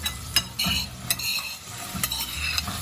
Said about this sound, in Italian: Vedete che la pancetta è bella rosolata. Iniziamo a buttare il soffritto.